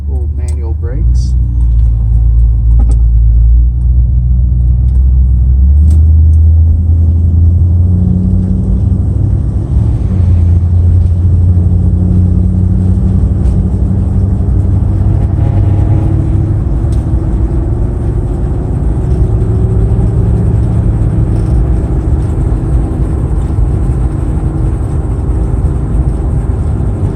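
1958 Chevrolet Impala California Coupe V8 engine while driving on the road, a steady loud low rumble and drone with road noise throughout, shifting in pitch as it accelerates.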